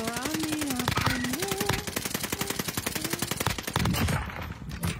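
Rapid automatic gunfire from a first-person shooter game plays as dense, continuous bursts, loud and close, over game music.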